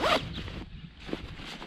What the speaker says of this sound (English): do a zipper